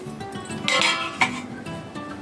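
Green tomato and chili chutney scooped from a pan onto a serving plate, with a few clinks and scrapes of a spoon against metal and dishware, close and fairly quiet.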